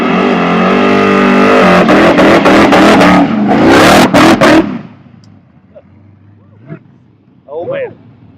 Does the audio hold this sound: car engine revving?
yes